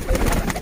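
Chuhay kabootar pigeons coo in a short, close, low throaty burst, heard alone.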